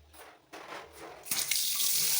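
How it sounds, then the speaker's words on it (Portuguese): A white plastic faucet at a white granite sink counter is turned on, running water starting softly and swelling into a steady close hiss of flowing water, no voices. "Torneira de plástico branco, do tipo de camorra, funcionando normalmente."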